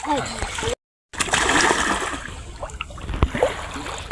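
A person dives into a river, making a loud watery splash followed by sloshing and rippling water, with voices talking over it throughout.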